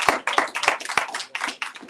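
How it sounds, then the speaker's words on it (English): Scattered handclaps from an audience applauding a DJ at a venue, a loose irregular patter of individual claps at moderate volume, with no voices over it. "So y'all give a round of applause for him."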